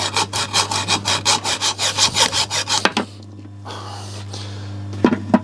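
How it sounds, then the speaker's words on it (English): A junior hacksaw cuts into a high-speed steel tool with about a dozen quick, rhythmic rasping strokes, close and loud, before stopping into quiet handling noises and a low steady hum. "I'm trying to cut it off with a junior hacksaw"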